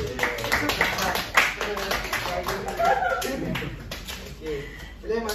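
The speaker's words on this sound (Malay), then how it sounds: "Beri tepukan, bagus." Children in a classroom clap in scattered, uneven bursts while a teacher and pupils talk over them, the claps close and sharp amid chatter and a little laughter.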